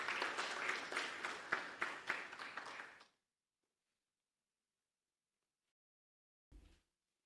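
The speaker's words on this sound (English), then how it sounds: "Let's give them a round of applause." Audience applause at a campus community safety forum launch hall: dense, fairly loud clapping from a crowd for about three seconds, then an abrupt cut to silence broken only by a short muffled bump near the end.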